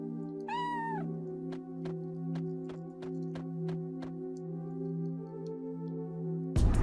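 A cat meows once in the Chrono Cross video game, a short rising-falling cry near the start, followed by a regular ticking pulse over sustained background music.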